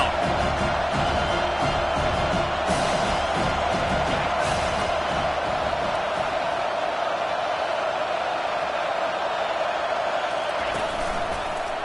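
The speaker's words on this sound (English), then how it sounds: "Decibels rising as the crowd gets behind this defense on 3rd down." A stadium crowd at a football game roars behind the defense on third down, a loud, dense, sustained wall of cheering that holds steady for the whole stretch, with faint voices buried in it.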